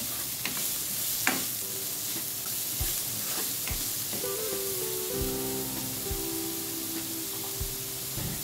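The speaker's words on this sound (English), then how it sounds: "The onions go in. Saute the onions for a bit." Onions sauteing in vegetable oil for a mutton pepper fry, a soft steady sizzle with occasional stirring clicks and spoon taps against the pan, close and fairly quiet, with no talking.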